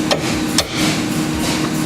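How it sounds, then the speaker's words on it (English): A one-pound hammer strikes twice to knock loose a front strut joint on a 1999 Buick LeSabre, sharp metallic taps close up over a steady background hum. "We'll use a 1 pound hammer and break that joint loose."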